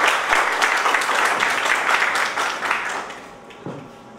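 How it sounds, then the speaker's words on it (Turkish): Audience applause at a hospital seminar on stress management as a presenter is invited to the podium, a lively burst of many hands clapping that gradually tapers off over about four seconds. "Alkışlarla."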